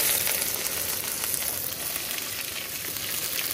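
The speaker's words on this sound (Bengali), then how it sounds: "তেলটা গরম হয়ে গেছে, এর মধ্যে পেঁয়াজগুলো দিয়ে দেবো।" Onions hit hot oil for khichuri cooked outdoors in a garden, giving a steady, loud, close hiss of frying that runs the whole time with no talking.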